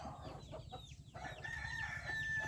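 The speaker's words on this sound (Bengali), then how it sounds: "এখন আমরা মুরগি ধরবো, মুরগির বাচ্চা ধরবো" Desi chickens and chicks being caught for vaccination cluck and squawk nearby, a rooster-like crow rising through the short stretch, with a steady low hum beneath.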